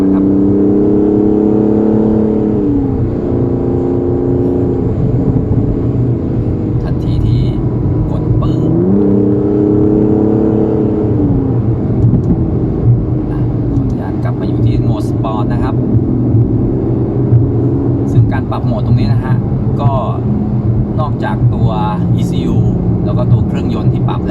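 An Aston Martin DBS Superleggera driving on a Thai road, its engine droning loudly from inside the cabin with rising and falling revs through gear changes, while someone talks over it.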